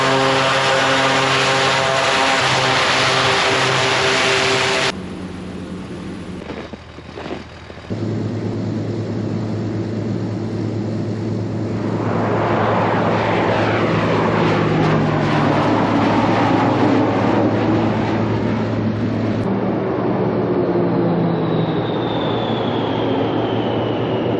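An LC-130 propeller aircraft on a snow skiway at Greenland's Summit Camp drones with steady turboprop tones, dips briefly, then its engines swell into a loud, broad roar that holds for the rest of the clip.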